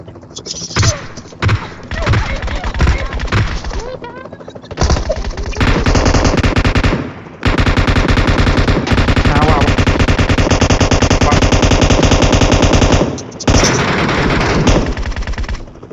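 Loud gunfire from PUBG Metro Royale: rapid automatic bursts and single shots repeat in stretches with brief pauses, with players talking over it.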